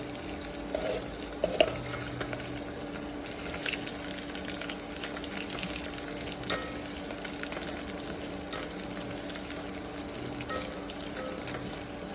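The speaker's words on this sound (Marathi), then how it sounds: "आलं लसूणची पेस्ट टाकल्यानंतर मस्त ब्राऊन कलर होईल तोपर्यंत होऊ द्यायचं आहे" Ginger garlic paste frying in a pan gives a soft, steady sizzle at low level, with faint stirring clicks over a constant background hum and no one talking.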